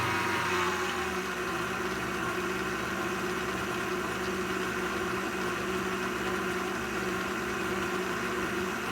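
A stand mixer fitted with a paddle attachment instead of a dough hook churns rosemary bread dough, giving a steady motor drone with a low rhythmic chugging that runs on without pause, close by.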